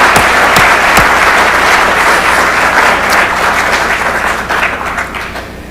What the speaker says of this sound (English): Let's give all of our staff a round of applause.